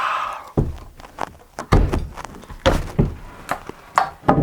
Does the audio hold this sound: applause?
no